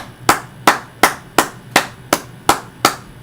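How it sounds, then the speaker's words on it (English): Eight sharp, evenly spaced claps or strikes in a slow steady rhythm, close and loud with a short decay after each, nothing else in the background. "Give yourselves a round of a freaking applause."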